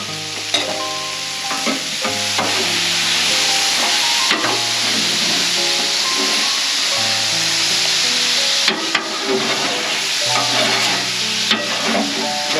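Plain water hisses and sizzles as steam on a hot grill surface, a loud continuous rush with crackling bursts and faint tonal ringing, with no talking.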